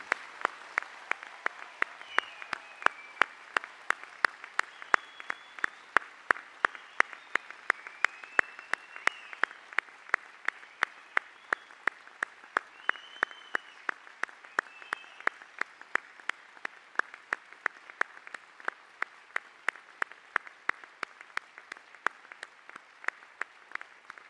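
A graduation ceremony audience gives graduates a long, sustained round of applause, a broad even wash of many hands with a few distinct claps standing out close by, continuing steadily throughout without speech.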